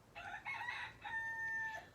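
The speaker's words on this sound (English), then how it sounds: "but that was a rooster. There's rooster crowing in the morning." A rooster crows in the morning, a clear drawn-out call in two or three rising phrases, heard at moderate distance over low background hum.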